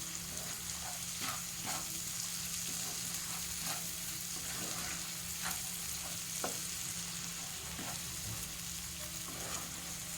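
Chicken in ghee being stirred in a pan, a soft, steady sizzle with scattered scraping and stirring clicks, quiet and continuous with no voices.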